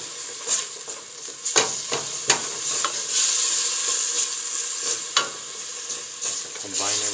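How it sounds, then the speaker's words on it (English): Arroz con pollo being stirred as it fries in a pan, a steady sizzle broken by scraping utensil strokes against the pan, close and fairly loud with no talking. "Give it a nice stir."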